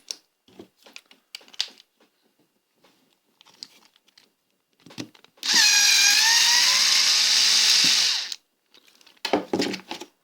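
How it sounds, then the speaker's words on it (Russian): Unscrewing a screw from the circuit board of an Intertool engraver with a small power screwdriver, a steady whirring drill burst of about three seconds in the middle, with quiet handling clicks and taps before and after. "Сейчас попробуем ее открутить."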